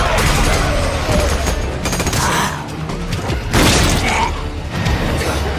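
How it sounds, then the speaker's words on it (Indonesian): Loud bursts of rapid gunfire in a movie shootout, sharp cracks and booms, several volleys in quick succession amid crashing mechanical noise. "aksi tembak-tembakan di antara mereka pun"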